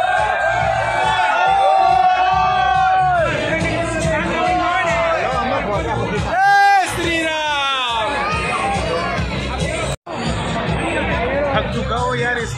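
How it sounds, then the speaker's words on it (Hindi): Large crowd of devotees chattering at Sarangpur Hanuman temple, a dense continuous hubbub of many voices with occasional louder shouts and whoops, close and steady throughout. "सो गाइस बहुत ज्यादा भीड़ हो रही है"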